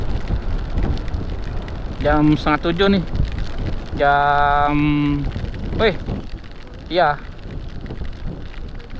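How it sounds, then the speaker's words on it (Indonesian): A light drizzle falls during a ride in Bali toward Penglipuran village and Kintamani mountain, heard as a faint, even hiss beneath people talking and passing tonal sounds. "Wah, gerimis teman-teman."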